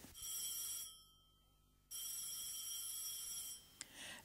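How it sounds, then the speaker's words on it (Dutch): A telephone rings in two loud electric bell bursts separated by a short pause, close and alone. "Een telefoon, riep Willemsen."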